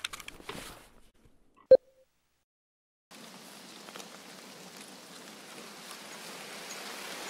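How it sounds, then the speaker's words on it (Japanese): Sudden heavy rain downpour in the video game Escape from Tarkov starts abruptly after a few seconds of near silence and a single short beep, then a steady, dense hiss of falling rain that holds to the end. "わーわーわーわーわー、ゲリラ豪雨です。"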